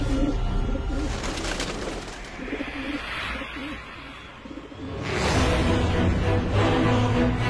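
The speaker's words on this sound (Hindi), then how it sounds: "2 पक्षी उड़ाइए।" Pigeons coo repeatedly in low, throbbing calls as they are released to fly. A loud rush of wings or wind swells toward the end.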